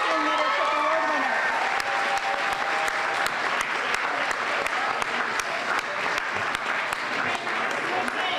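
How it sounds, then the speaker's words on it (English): A graduation crowd applauds a 2019 Leadership Award winner, sustained loud clapping with sharp individual claps standing out and a few voices and cheers mixed in throughout. "Let's have one more round of applause for our 2019 Leadership Award winner."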